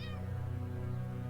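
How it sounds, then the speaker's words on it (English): A single short cat meow from a horror video game, heard alone over a low, steady droning hum, close and fairly clear. "Meow."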